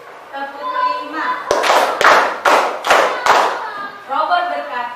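A classroom of children claps hands together five times in sharp, loud unison bursts, with a teacher's voice speaking before and after the claps.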